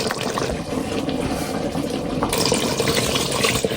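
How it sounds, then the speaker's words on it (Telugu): Water pours steadily into a pan of chicken curry cooked with green paste, a continuous close splashing and gurgling stream with no talk. "ఇందులోనే వాటర్ చాలా వచ్చాయి కదా సో కొంచెం చూసి పోసుకుంటున్నాం"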